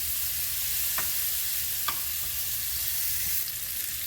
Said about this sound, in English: Give a little stir.